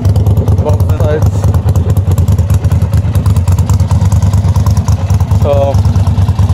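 A 1999 Ducati Monster 750 with a nearly straight-piped baffled exhaust idles close up, a loud lumpy throbbing beat throughout, with brief talk faintly over it.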